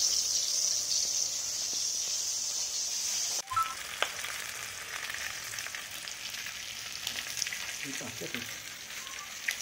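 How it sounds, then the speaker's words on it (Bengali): A fish head sizzles steadily in hot oil while being fried for a moong dal dish, a continuous bright crackle with a sharp utensil clack partway through and faint background sounds. "ওখানে মুড়ো ঘন্ট ডালের জন্য মুড়োটা ভালো করে ভেজে নিচ্ছে"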